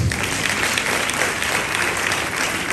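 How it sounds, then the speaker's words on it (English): An audience claps continuously and loudly at a cybersecurity challenge ceremony in Ghana, a dense, sustained wash of applause from a large crowd. "you need to be clapping right now"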